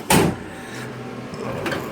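A drawer on a Craftsman tool box sliding open, a quick loud metallic scrape at the start followed by a quieter rattle and a soft knock near the end, heard close up.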